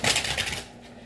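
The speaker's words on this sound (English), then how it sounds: "I'm just going to shuffle my deck really quickly." A Celtic Tarot deck is shuffled briskly, a dense run of crisp card riffling that fades out within about a second, close up with no talking.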